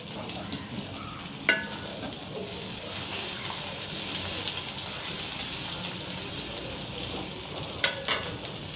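Small shallots sizzle in hot oil after a mustard-seed tempering, a steady frying hiss heard fairly close, broken by two sharp stirring clinks.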